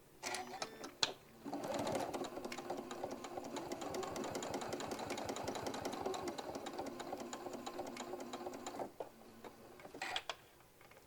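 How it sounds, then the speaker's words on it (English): A sewing machine runs a long, steady top stitch around a hobo bag at a longer stitch length. The close, fast mechanical whirring and ticking lasts about seven seconds, with a few clicks before and after. "while we're at our machine, we're going to go ahead and top stitch all the way around"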